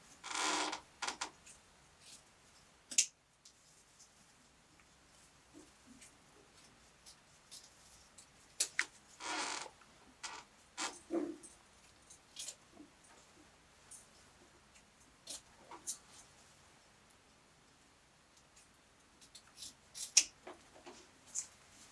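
Scissors snip the loose ends of ribbon on a Christmas tree bow: a few sharp, quiet cuts spaced irregularly, close by, with faint rustling between them.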